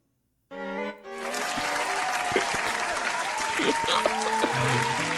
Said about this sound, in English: Round of applause for content.